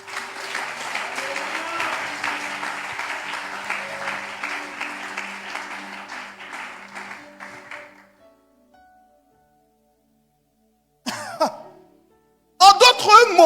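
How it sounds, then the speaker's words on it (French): Congregation applauding during a French sermon on the Holy Spirit, a steady mass of clapping that fades out after about eight seconds, followed by silence and then brief bursts of a voice. "Si vous comprenez, applaudis ça."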